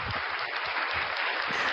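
An audience applauds an act at a live event, a steady wash of clapping filling the whole short stretch at moderate level with no break.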